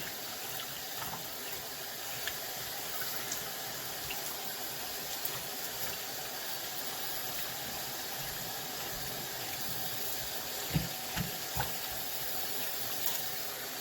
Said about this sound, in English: rinse this other side off. Get the slime off from this side